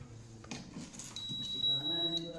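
An induction cooktop, just repaired after a no-display fault, gives a single steady high-pitched electronic beep lasting about a second, clear over faint workshop hum.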